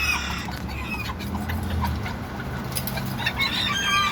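Bantam chickens clucking and crowing in a coop, the hen Blues among them, with overlapping calls at close to mid range over a steady farmyard background; no one speaks.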